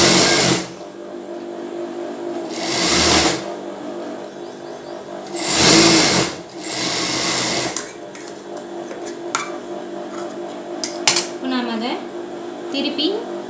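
A sewing machine joins a bra seam with a half-inch allowance, running in three loud bursts of rapid mechanical whirring separated by pauses, followed by softer clicks and handling sounds.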